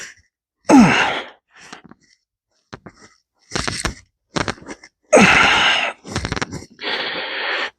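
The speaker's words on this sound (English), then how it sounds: "hope you like my heavy breathing and grunting" Heavy breathing and strained grunts during a strict press lift in a gym, loud and close, coming in separate bursts of exhales and groans with silent pauses between them.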